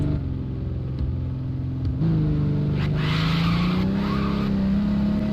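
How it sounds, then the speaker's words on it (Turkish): A car engine in the Drive 21 racing game drones loudly and steadily, rising in pitch as the car accelerates, while a hiss of spinning rear tyres comes in as it drifts. "Yani böyle araba hızlandığında arkadaşlar arka tekerlekler hızlıca dönüyor böyle. Drift atıyorsunuz resmen."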